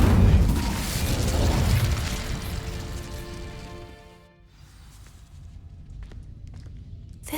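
An Incendio fire spell ignites dry vines in Hogwarts Legacy, with a loud whooshing burst of flame that crackles and fades into a ringing, shimmering tail before the quieter ambience returns.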